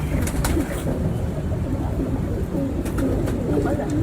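Lakha pigeons in a breeder's loft coo steadily, their low soft calls layered over one another close by, with a few brief flutters and a faint voice in the background.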